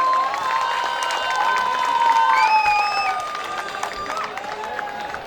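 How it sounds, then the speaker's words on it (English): Steady applause from a large crowd at a university award ceremony for a Haryanvi folk singer, with cheering and whistles over it, sustained at full volume throughout. "give him a big round of applause."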